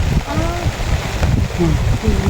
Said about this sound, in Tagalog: Talaga pong malakas po ang ulan.